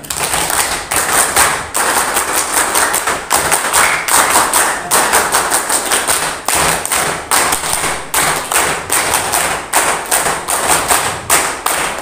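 A group of scouts and trainers does a scout clap and a tepuk pramuka on command, with loud, close, rhythmic bursts of many hands clapping together in patterned sequences and short pauses, and no talking.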